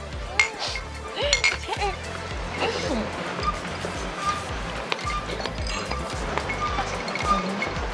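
Drinking glasses clink together in a toast, several bright, scattered chinks rising over a lively, noisy crowd of voices chattering and cheering throughout.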